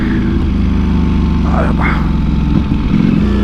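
A motorcycle engine drones steadily under a ride in summer heat, the hum continuous and close, with someone talking over it.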